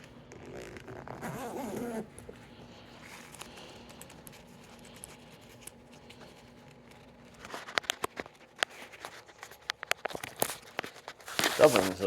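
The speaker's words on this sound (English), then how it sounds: "So we undo those, and we'll undo our zippers." Zippers are pulled open on the seat back cover of a 2000 Subaru Forester, giving a short rasping zip followed by fabric rustling and scattered clicks nearby, while someone talks.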